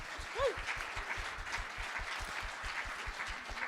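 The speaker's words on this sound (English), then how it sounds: "Give a round of applause to our panel, everybody." Audience applause for a panel at the close of a talk session, a moderate room of steady rhythmic clapping, fairly close and even, with a brief vocal whoop near the start.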